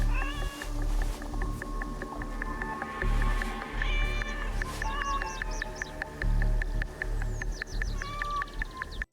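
Repeated meows from a cat in the video game Assassin's Creed Shadows, several drawn-out calls rising and falling over a soft rustling ambient bed, near and clear.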